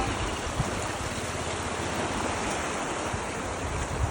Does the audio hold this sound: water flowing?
yes